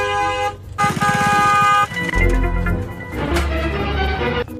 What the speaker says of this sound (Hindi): अभी इसको 2-3 हॉर्न ठोकता हूँ।